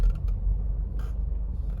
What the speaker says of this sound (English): Yeah, you can hear some knocking there.